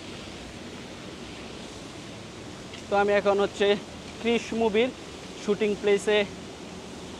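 A waterfall at the Krrish movie shooting location, a steady broad rush of falling water at moderate level throughout, with someone speaking over it in the middle.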